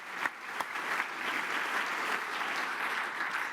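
An audience at a business event applauds, a steady, fairly loud wash of many hands clapping at once, with a few sharper claps near the start.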